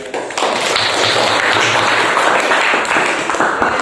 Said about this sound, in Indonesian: Berikan tepuk.